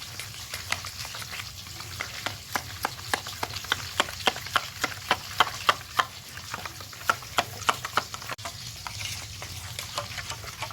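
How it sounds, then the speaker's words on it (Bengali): A utensil whisks turmeric into a yogurt, mustard and green chili paste for a rohu fish curry, tapping rapidly and steadily against the bowl in a fast, even rhythm that stays close and clear throughout. "দিয়ে আমি এখানে ভালো করে ফেটিয়ে নেব।"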